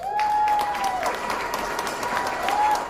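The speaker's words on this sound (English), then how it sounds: "That surprise announcement, drawing a standing ovation from the crowd" Dense, sustained applause from a crowd giving a standing ovation at an elementary school teacher award presentation, steady throughout with a faint tonal whine above it.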